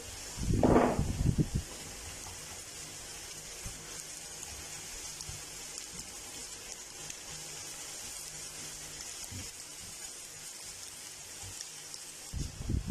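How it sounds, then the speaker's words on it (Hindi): Diced onion sautéing with potatoes in a pan, a steady soft sizzle and hiss running throughout, with a brief louder clatter near the start and quiet low knocks later. "प्याज को 1 मिनट के लिए सौते कर लेंगे, हल्का सा सॉफ्ट होगा तब तक पकाएंगे।"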